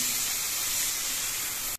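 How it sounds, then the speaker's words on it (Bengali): Broth for a thin hilsa fish curry poured into a pan of eggplant fried with turmeric: a loud, continuous hissing sizzle that holds steady for nearly two seconds, then stops abruptly with a brief final splash. "এবার এর মধ্যে আমি ঝোল দিচ্ছি।"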